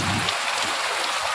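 Heavy rain pours down in a steady, dense hiss, loud and close, with no voices over it.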